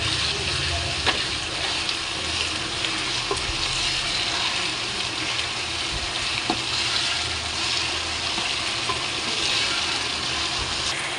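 Biryani masala with mint leaves sautéing in a pan for homemade chicken biryani, a dense, constant sizzle broken by occasional clicks of stirring, close and fairly loud.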